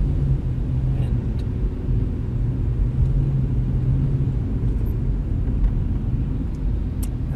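A car engine rumbles steadily from inside the car while driving, a constant low drone with road noise and no speech.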